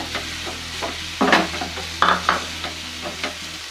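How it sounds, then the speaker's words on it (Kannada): Mashed potato is stirred into a sizzling pan for potato saagu, a low frying hiss under several distinct scraping stirs of a spoon against the pan, close and unaccompanied by speech. "ಆಲೂಗೆಡ್ಡೆ ಹಾಕಿ ಎಲ್ಲ ಚೆನ್ನಾಗಿ ಮಿಕ್ಸ್ ಮಾಡ್ಕೋಬೇಕು"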